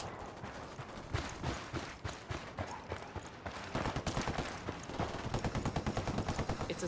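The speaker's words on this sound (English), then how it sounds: "Opening fire on these fuckers." Sustained gunfire in Ghost Recon, dense bursts of automatic shots crackling in quick rhythm throughout, loud and close, growing heavier toward the end with no speech over it.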